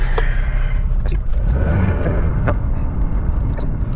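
A 2004 Honda CR-V drives around the block, its engine and road noise forming a steady, close rumble throughout, with a few brief clicks and knocks over the drone.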